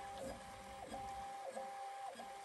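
A Prusa MK4 3D printer mid-print makes quiet, rhythmic stepper-motor whines and sweeping tonal chirps that repeat every half second or so over a soft fan hum, faint and steady with no voices.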